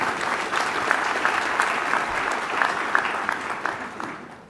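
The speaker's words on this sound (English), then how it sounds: "A big round of applause for Mary and her effort." An audience at a trade ministers' session gives a sustained round of applause, a dense wash of clapping that holds steady and then tapers off toward the end.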